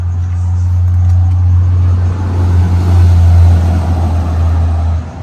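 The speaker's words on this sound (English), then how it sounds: "Sorry, I was waiting for the car." A car passes nearby outdoors, a loud steady low engine hum that swells and then fades away over several seconds, with no talk.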